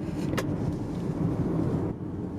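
A 2020 Mazda CX-30 Select rolls along a road at about 40 mph through curves, giving a steady broadband interior road and engine rumble with a brief brighter swish near the start.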